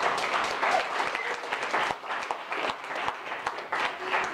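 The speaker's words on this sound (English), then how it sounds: "let's give all of the project owners a round of applause" A launch party crowd claps for project owners, a moderately sized group producing uneven, fluttering applause with individual sharp claps standing out, fairly close and steady throughout.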